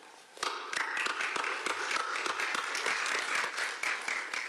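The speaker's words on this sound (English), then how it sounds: "may we give them a round of applause" An audience of diplomats and officials at a formal peace talks ceremony in South Africa claps for two ambassadors, a sudden onset of crisp, fairly close applause that stays even and steady.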